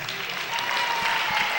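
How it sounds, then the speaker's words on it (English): Crowd applause at a high school girls' basketball game as the coach is introduced, a steady wash of clapping from the gym audience throughout, moderately loud and slightly distant. "Big round of applause for Nye."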